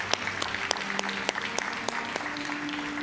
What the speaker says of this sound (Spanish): Un aplauso para Alan